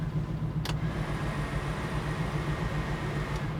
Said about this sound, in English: Car idles nicely.